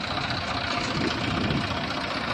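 A one-owner New Holland 3230 tractor with a 42-horsepower Simpson diesel idles in a steady, rumbling, even drone, close and continuous, with no voices.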